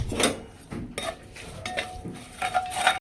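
A spoon scraping and clinking against a pan as turmeric, asafoetida and red chilli powder are mixed into an onion and curry leaf tempering, several close, irregular metallic strokes.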